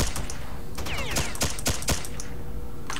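Gunfire in a video game with the New Arsenal mod: several sharp, loud shots, single and in short bursts, spread across the clip over a constant background, with no talking.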